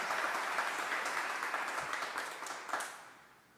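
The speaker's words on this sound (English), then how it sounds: "Let's give him a round of applause." Congregation applause for a guest speaker at a church service, a full steady round of clapping that gradually tapers and fades away toward the end.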